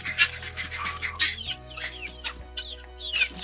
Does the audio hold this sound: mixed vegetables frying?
no